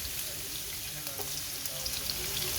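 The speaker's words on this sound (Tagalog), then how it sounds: "Magsutay na tayo ng ating bawang." Garlic sautéing in a pan gives a steady, faint sizzle with light stirring scrapes throughout, close by, and no voices.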